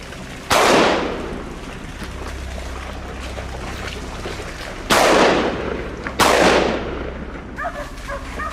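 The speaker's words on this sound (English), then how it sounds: "Startled by the gunshot," Gunfire during a wild boar hunt: three loud, sharp shots with decaying echoes, one early and two close together later, over steady outdoor background noise.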